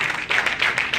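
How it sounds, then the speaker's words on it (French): Audience clapping at a Senegalese political gathering, a short, loud burst of dense applause with rapid, even claps and no voices over it. "Donc, applaudissez tout le monde."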